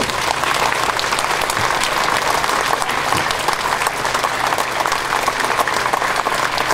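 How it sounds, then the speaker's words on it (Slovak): An audience at a public talk gives steady, dense applause to welcome a speaker, sustained at an even level for several seconds with no voices over it. "Prosím, privítajte s potleskom pána Eugena Kordu."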